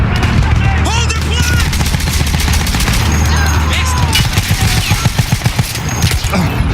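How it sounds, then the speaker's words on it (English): Rapid machine-gun fire hammers away in a Battlefield 1 battle, loud and close, with bursts growing denser toward the end. A voice speaks over the shooting. "Hey, who's shooting me?"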